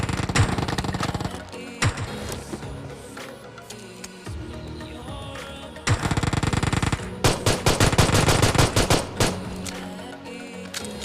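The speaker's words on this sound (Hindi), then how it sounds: "इस बंदे को 2 शॉटगन लगते हैं" Close gunfire in the PUBG Mobile video game, with shotgun shots among the weapons, crackles in dense rapid bursts and single loud reports, heaviest toward the end, over a continuous game-sound backdrop.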